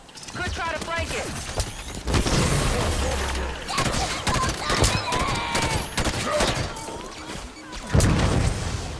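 Turret gunfire rattles in Halo 5: Guardians as sustained, dense volleys of shots mixed with crashes and other battle effects, with voices heard among the din.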